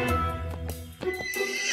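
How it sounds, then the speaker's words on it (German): A white horse in an animated cartoon fairy tale gives a loud, close neigh and whinny with a few hoof clops, heard alone without speech. "Was für ein schönes Pferd!"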